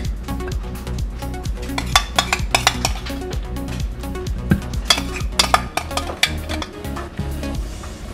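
An egg frying in a pan crackles and pops under loud, rhythmic scraping and clinking of a utensil against the pan, with repeated sharp knocks throughout.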